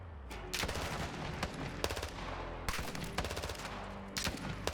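Enemy gunfire in Call of Duty Modern Warfare 2 (2022): repeated loud bursts of automatic rifle fire and cracking single shots, dense and continuous, rattling near and far across a battlefield with no talk.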